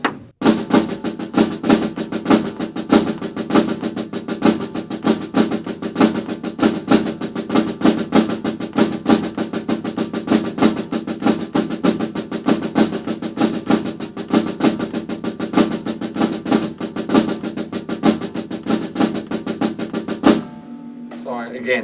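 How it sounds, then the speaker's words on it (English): Drum set rudiment exercise with flams on every melody note, a dense, steady stream of rapid snare and drum strokes played loud and alone for about twenty seconds, then stopping abruptly. "I'm gonna flam all of the notes of the melody,"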